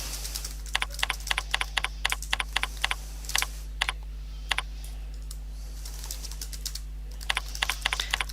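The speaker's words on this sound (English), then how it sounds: "So you can type whatever you want." Fingers tap away on a computer keyboard in quick irregular bursts of clicking keystrokes, close and crisp over a low steady hum, with short pauses between runs.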